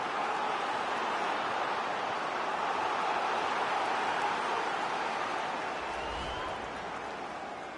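A large stadium crowd roars in a broad, sustained wash of cheering and noise that holds steady, then eases slightly near the end.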